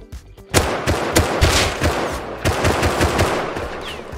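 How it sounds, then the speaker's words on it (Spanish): Gunfire in the survival game Rust: loud, rapid bursts of shots with thumping impacts crowd the whole stretch after a short quiet opening, with no talk over them. "Me disparan."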